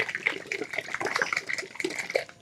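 A bottle of headlight polishing compound shaken by hand, giving a quick sloshing, rattling liquid sound up close for a couple of seconds.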